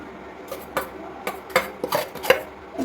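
Spoon stirring milk powder into a topra pak coconut mixture in a metal pan at home, giving a few scattered scrapes and light clinks, close and fairly soft, with no talking.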